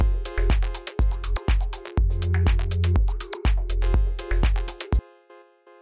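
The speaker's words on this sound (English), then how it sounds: "Let's try putting the compressor on there, side chaining it to the kick." Minimal house loop with a kick drum and a synth ducked by sidechain compression, pulsing in a steady rhythm with each kick punching through, then cutting off abruptly near the end to a faint ringing tail.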